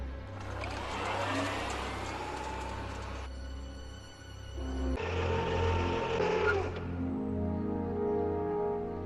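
A car drives in the Back to the Future video game, with a steady engine hum and revving that shifts pitch partway through, accompanied by game music.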